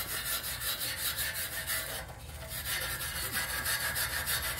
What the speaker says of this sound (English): I'm going to use a wire brush